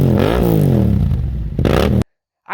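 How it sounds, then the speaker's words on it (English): A Yamaha MT-07 motorcycle fitted with an Akrapovic exhaust gives one loud, close rev that climbs and drops back. The rev cuts off abruptly into silence, and a brief faint sound follows. "The sound with this Akrapovic exhaust,"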